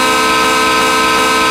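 A big train in a railway video game rolls by with its horn sounding, a loud, sustained, steady blare over low rumble, close and alone with no talk.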